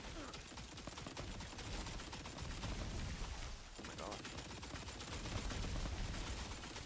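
Rapid automatic gunfire from a new gun in Tiny Tina's Wonderlands, a dense continuous rattle of shots filling the whole stretch at steady loudness, with a brief exclamation from a player partway through.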